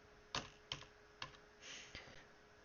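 Five separate computer keyboard keystrokes clack sharply and close by, spaced unevenly over a couple of seconds in a quiet room, with no voices.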